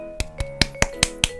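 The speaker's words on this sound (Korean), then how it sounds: "박수." Six sharp, evenly spaced hand claps ring out alone, close and crisp, about one every fifth of a second.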